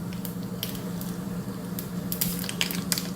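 Mustard seeds and cumin spluttering in hot oil in a pan, a steady close sizzle with scattered sharp pops and crackles growing busier toward the end, no voices.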